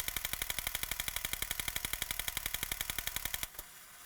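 A marching toy robot fires the guns hidden in its chest: a rapid, steady stream of sharp mechanical clicks and pops, loud and close, about thirty-five evenly spaced shots that cut off abruptly near the end.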